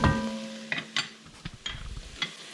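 Onions for Hungarian goulash sizzle softly in a pan and are stirred, with a steady quiet frying hiss and intermittent scraping taps; an electronic tone sounds briefly at the start.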